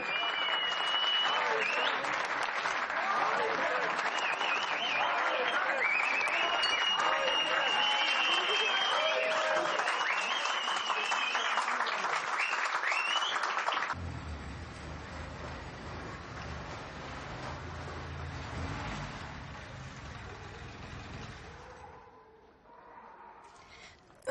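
Loud, sustained audience applause fills a hall after a stage song performance, steady clapping that suddenly drops away to a quieter murmuring room and fades near the end.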